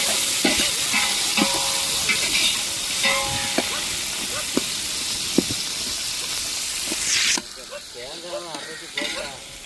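Onions, tomatoes and green chilies frying in a pan while cooking outdoors in a forest, a steady loud sizzle with occasional stirring scrapes, the hiss dropping sharply near the end.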